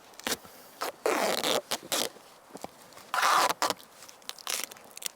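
Tape being pulled off a roll and wrapped around a ballistic armor plate, with repeated loud ripping and tearing bursts of varying length separated by short pauses, close up and without speech.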